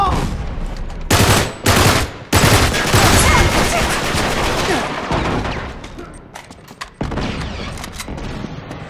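Multiplayer gunfight in Uncharted 3, with loud bursts of rapid automatic fire and single shots cracking close by, cut by brief pauses and followed by quieter scattered shooting.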